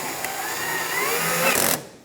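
A screw being driven into a Kia Soul 1.6L cooling fan assembly, a steady whirring tool run lasting about a second and a half, close and fairly loud, ending in a brief harder burst before cutting off.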